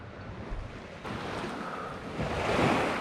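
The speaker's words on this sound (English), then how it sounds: "surf's gonna run us in" Ocean surf washes onto a nearby shore during a kayak landing at Musgrave Point, a soft continuous rush of breaking waves mixed with gusty wind noise on the microphone that grows slightly louder toward the end.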